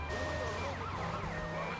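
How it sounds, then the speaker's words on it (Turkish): An ambulance siren in the GTA Vice City video game wails with a rising and falling tone, loud and close, sustained for the whole moment over a low engine rumble. "La ambulans çekil önümden lan."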